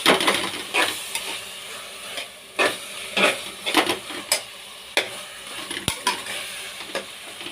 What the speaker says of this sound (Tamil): இஞ்சி பூண்டு மட்டும் போட்டு நல்லா வதக்கணும்ப்பா